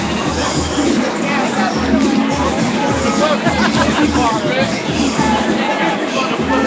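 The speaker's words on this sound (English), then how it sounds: "This is a very, very large crowd." A large protest crowd at night in Ferguson, a steady dense babble of many voices murmuring and calling out, close and continuous throughout.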